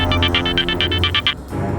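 A telephone rings in a rapid electronic trill, about ten quick bursts in a loud, steady pattern, then stops abruptly, leaving low background music in a tense crime-drama scene.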